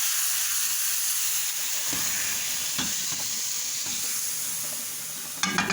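Garlic and fresh green coriander frying in ghee in a pan, a loud continuous sizzle and hiss with occasional stirring scrapes, a sharper clatter near the end, no voices.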